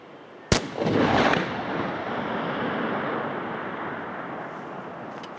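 A single sharp rifle shot from a .375 caliber rifle fires at long range, followed by a long rolling rumble and echo that fades slowly across open terrain.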